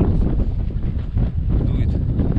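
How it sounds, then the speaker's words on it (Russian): Strong wind buffets the microphone on the bank of the Lena River, a steady rough low roar with gusty swells across the whole stretch. "Ветрюганище сейчас, может дождь скоро будет"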